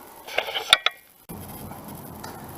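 A can of spray glue, used to re-cover a leather arm rest on an Acura TL, is shaken close by, giving a short burst of metallic rattling clinks followed by a steadier hiss-like rustle.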